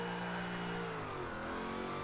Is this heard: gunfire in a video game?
no